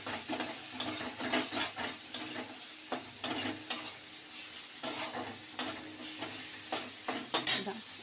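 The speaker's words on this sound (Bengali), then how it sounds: "এই টমেটোটা টুকরো করে নিয়েছি, একটা টমেটো, এটা এর মধ্যে দিয়ে দেবো।" Chopped tomato sizzling in a pan while making homemade chana masala, with soft frying crackle and repeated sharp clicks and scrapes of stirring, quiet and close, with no talk.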